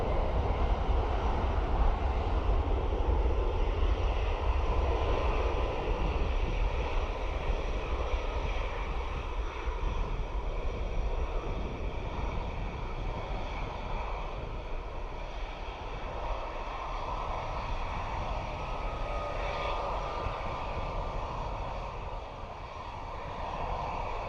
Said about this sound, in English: Malta Air, Max 8, off to Amsterdam